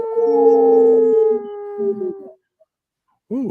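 Two radio hosts on a Native community station imitate wolf howls with their voices, long sustained overlapping tones that slide and fade, followed after a short pause by a brief rising howl starting up again.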